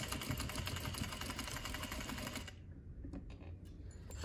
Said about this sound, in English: you'll sew 2 lines of stitching down each side of the mask